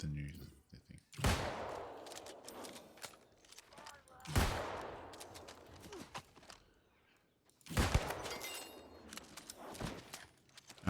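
Gunfire in the video game New World cracks in three sharp, loud bursts spaced a few seconds apart, each trailing off, with light movement noise between them.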